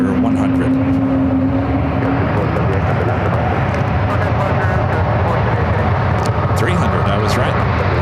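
An Air Canada Airbus A220-300 at San Francisco airport gives a constant loud engine roar with a short whine early on, and a voice talks faintly beneath it.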